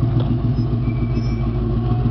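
A 1968 Ford Bronco's 289 V8 idles steadily up close, a loud, even low rumble with no voices over it.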